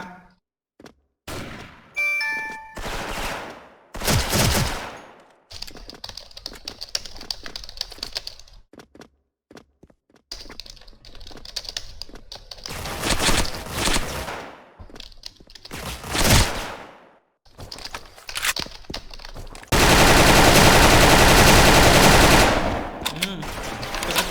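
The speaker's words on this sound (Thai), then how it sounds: "คนมายิงกำแพงอ่ะ" Video game gunfire strikes a wall in rapid automatic bursts, loud clattering volleys separated by short pauses, ending in a long continuous stretch of fire.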